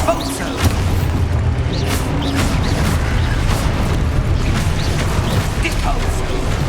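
An Expulso spell blast in Hogwarts Legacy booms through a dense, rumbling battle din, loud and sustained, with bursts and scattered impacts layered under voices.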